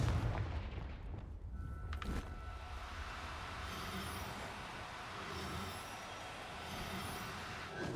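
A Confringo blast spell cast in the video game Hogwarts Legacy: a sharp, loud burst erupts early, then gives way to a sustained, rumbling roar of noisy, crackling energy that carries steadily to the end.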